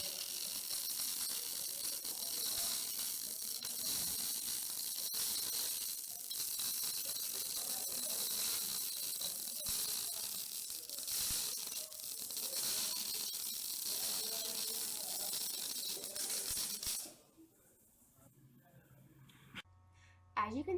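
A MIG welder laying a bead at the correct travel speed gives a steady, loud crackling sizzle like bacon frying, running continuously for about seventeen seconds before cutting off into near quiet.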